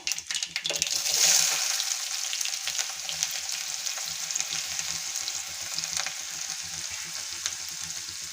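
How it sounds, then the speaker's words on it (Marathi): Chopped onion fries in hot oil with mustard seeds and cumin, giving a soft, steady sizzle with occasional stirring scrapes, close up and without talk. "कांदा तेलामध्ये छान असा परतवून घ्यायचा।"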